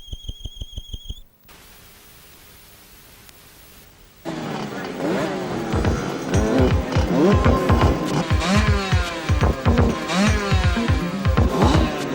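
Junior dirt track motorbikes race, from automatic 50cc Pee-wees to 125s. After a few seconds of tones and quiet, a dense snarl of revving small engines rises and stays loud, with overlapping pitch sweeps as bikes pass.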